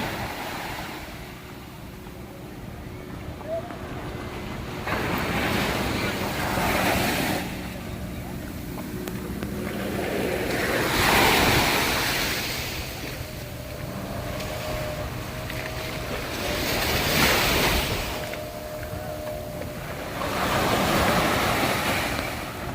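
Waves break repeatedly on Shivrajpur Beach near Dwarka in slow surges, with wind buffeting the microphone and a faint steady tone in the background.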